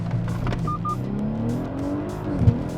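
An Audi SQ5 launches hard with its tires spinning, the engine note rising steadily under a brief squeal, heard from inside the car.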